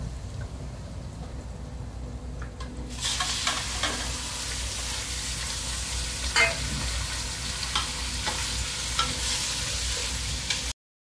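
Mutton hits browned onion in a hot pot for Pakistani-Arabic biryani and a loud, steady sizzle and hiss bursts up partway through, carrying on evenly with faint stirring scrapes and no talk.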